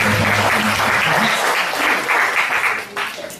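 An audience at a 2015 product demonstration breaks into steady, loud applause that fills the space, then tapers slightly near the end.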